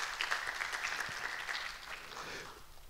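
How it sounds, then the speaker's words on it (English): A seated audience at a talk on how the Cabinet works claps together, with a soft, steady patter of many hands heard from a distance. It fades a little toward the end. "we should clap for our chief guest for making that gesture"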